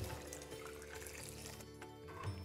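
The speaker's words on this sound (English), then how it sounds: "So we're going to add 4 more cups of water." Water poured into a pot of simmering mung dhal, a faint continuous splashing and trickling stream running steadily for a couple of seconds with no voices.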